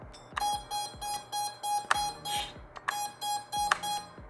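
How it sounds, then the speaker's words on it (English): Beeper on an EMAX BabyHawk II drone, sounding a steady series of short, sharp electronic beeps in a regular pulsing rhythm, fairly loud and close, with no talk. "Pretty loud beeper, not bad."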